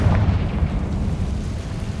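Confringo blasting spell going off in Hogwarts Legacy, a deep booming explosion that rolls into a low, fading rumble, with no voices.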